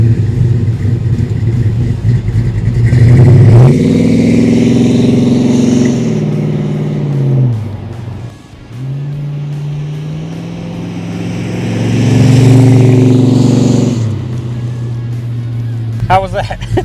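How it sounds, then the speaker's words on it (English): A 1970 Dodge Charger engine runs close by in good weather, revving up twice over a steady idle with deep rising and falling rumbles. People talk nearby. "you ready for a good old-fashioned startup?"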